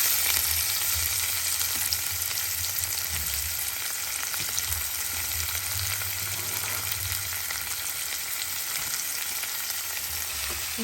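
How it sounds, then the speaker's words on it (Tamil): Chopped onion frying in hot oil in a pan for urad dal onion chutney, giving a steady, even sizzle with a low rumble underneath, close and moderately loud throughout. "இப்போது இந்த ஆயிலில் ஆனியனை போட்டுக்கிறேன்."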